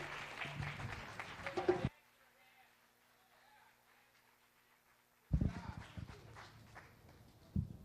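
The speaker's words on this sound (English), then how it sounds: "Give a round of applause for Rhythm Arts Alliance." Bursts of audience applause with cheering, a short burst that stops abruptly, then a quieter pause before clapping and crowd noise return.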